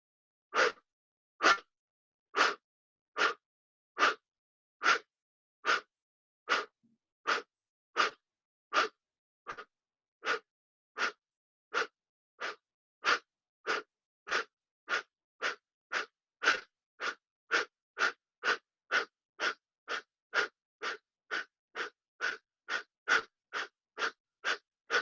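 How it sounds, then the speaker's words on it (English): Sharp, forceful nasal exhalations during a yoga breathing exercise repeat steadily around thirty times, close and distinct with brief silences between, speeding up slightly toward the end. "So you don't need to worry about the inhale, just exhale, exhale, exhale."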